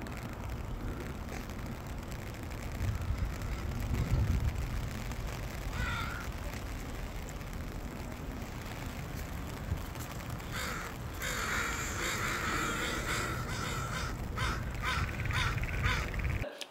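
Crows caw repeatedly near a beach, harsh calls coming in bursts over a steady background of wind and surf, some moderately close and others farther off.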